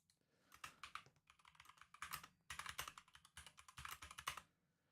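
Rapid clatter of a computer keyboard being typed on in bursts, close and fairly loud, with short pauses between flurries of keystrokes and no talking.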